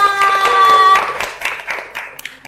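Participants at a quiz game show clap along in quick rhythmic bursts over a held electronic tone. The beats start close and loud, then thin into scattered claps as the tone ends.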